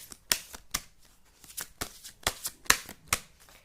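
Tarot cards are shuffled and drawn, giving a close run of crisp, snapping card flicks about every half second, some louder than others, in an otherwise quiet room without talking.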